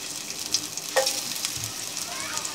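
Onions fry in hot oil for spaghetti, giving a steady bright sizzle with a few sharper crackles and spatters, close and moderately quiet with no talking.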